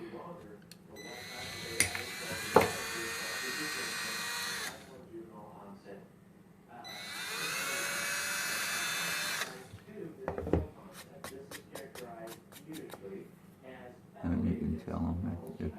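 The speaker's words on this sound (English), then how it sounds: "We're going to go ahead and pre-drill our hole, just very gently." A power drill gently pre-drills a hole into a wood dowel in two bursts of a few seconds each, with short pauses, light knocks and handling noises between them.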